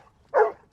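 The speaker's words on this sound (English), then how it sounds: "So my dog is alerting on live human scent." A six-year-old Labrador retriever, a certified disaster search dog working rubble piles, gives a single short, loud bark on alert, near and alone against a quiet background.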